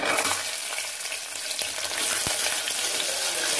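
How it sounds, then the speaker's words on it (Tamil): Onions, small shallots, chili, curry leaves and garlic sauté in hot oil for a tamarind curry with brinjal and drumstick, giving a loud, steady close-up sizzle with occasional stirring scrapes throughout. "நல்லா வதங்கிக்கலாம் நல்லா கொஞ்சம் வதங்கட்டும்"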